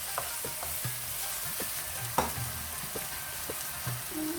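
Masala bhindi with onions fries on a high flame, a steady loud sizzle under repeated scrapes and taps of a spoon stirring the pan, one sharper knock midway, close up with no talking.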